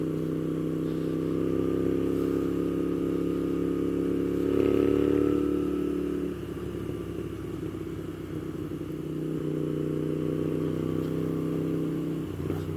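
Moto Guzzi V7 mk2 750cc motorcycle engine rumbling steadily while being ridden, a low continuous drone that swells briefly around midway then settles back, close and fairly loud with no talk.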